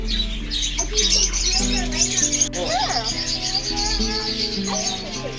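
Small bird chirping in a pet store, scattered high chirps and tweets close by while people talk over a background hum.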